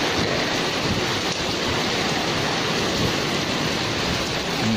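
Steady heavy rain pours down on the outdoor market in Martapura, Indonesia, a dense continuous hiss with no voices and no breaks.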